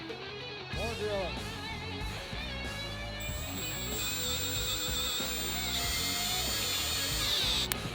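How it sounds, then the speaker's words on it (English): A power drill bores holes into the metal body of a brand new van, whining steadily and close up for several seconds with a ratcheting mechanical edge, while a person talks over it. "And now we're going to, start drilling. Yeah, hear that drill."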